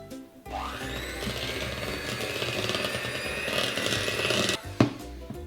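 An electric mixer beats an egg into creamed cookie dough for a giant Nutella cookie pizza, its motor whirring steadily and fairly loud before cutting off, followed by a brief clunk.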